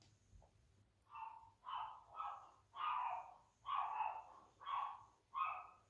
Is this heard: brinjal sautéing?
no